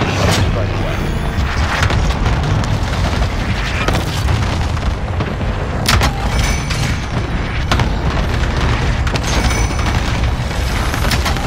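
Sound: airstrike explosions in a Call of Duty video game

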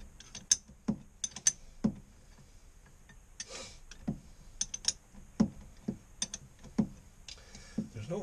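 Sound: open end wrench turning a nut on a boat transmission

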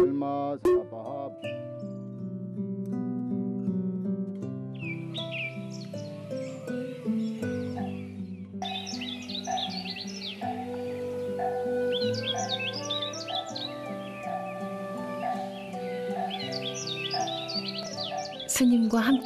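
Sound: birds singing in mountain forest

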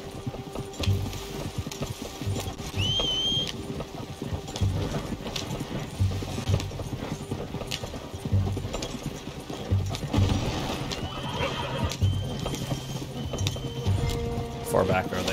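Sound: horse galloping and neighing in video game

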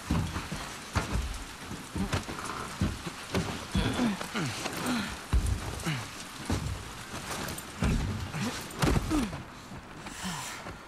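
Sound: rain in video game The Last of Us Part II

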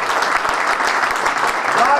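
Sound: applause for the restaurant owner at a fundraiser

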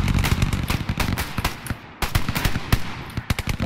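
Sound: gunfire in Hell Let Loose video game

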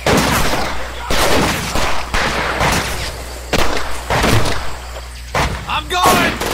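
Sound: gunfire in Medal of Honor Pacific Assault video game

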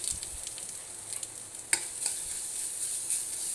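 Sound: sautéing ground garlic, coriander and cumin paste for rasam

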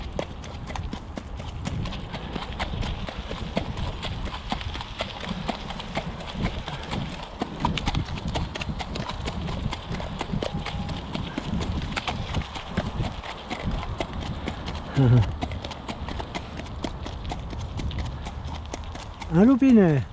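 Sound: horse hooves walking on a ride

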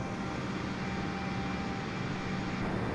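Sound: Airbus A320 taking off at Los Angeles, video game Flight Simulator 2020

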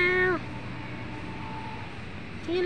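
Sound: cat meowing

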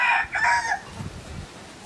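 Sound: chickens and rooster crowing

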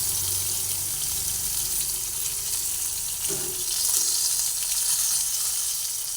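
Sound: frying tomatoes and spice paste in a pan

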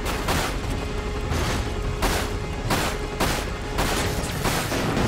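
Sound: gunfire in video game Dirge of Cerberus

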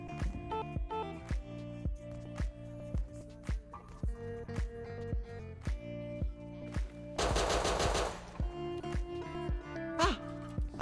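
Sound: AK rifle gunfire in video game Rust

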